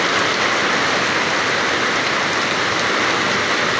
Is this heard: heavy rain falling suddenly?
yes